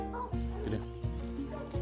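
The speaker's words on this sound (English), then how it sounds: "We're about to load the dogs up" Coon dogs bark and yip excitedly as they are loaded up for a raccoon hunt, several sharp barks at close range over a steady background hum.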